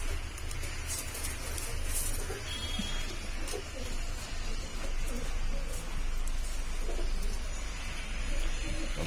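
A pair of Shahjahanpuri pigeons coo repeatedly over a constant noisy background, with soft bursts of cooing and rustling spread evenly throughout.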